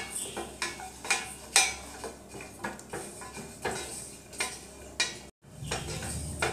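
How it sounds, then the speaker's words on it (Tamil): A spoon scrapes and taps against a pan in a steady rhythm as cumin dry roasts for rasam powder, with faint crackling beneath the close, moderate stirring strokes. "சீரகத்தை சேர்த்துட்டு சீரகத்தையும் நல்லா வறுத்துறலாம்"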